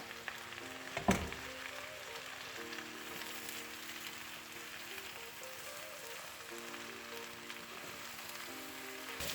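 Freshly washed spinach fries in a pan, giving a faint, steady sizzle with one brief knock near the start and a low hum underneath.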